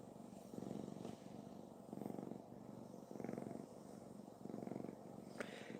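Cat purring close up, soft and low, with a steady rhythm of inhaled and exhaled rumbles repeating about once a second.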